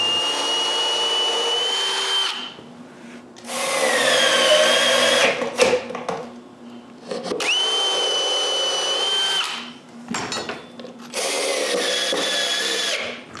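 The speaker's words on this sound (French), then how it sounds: "je visse le support en place" A power drill drives screws to fix a support onto a woodworking block, with four whirring bursts of a few seconds each separated by short pauses and small clunks.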